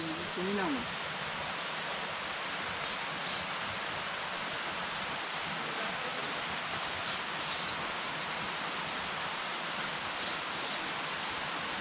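Waterfall in Khagrachari, heard as a steady, broad rushing wash of falling water holding even throughout, with faint birdlike chirps now and then and a brief murmur early on.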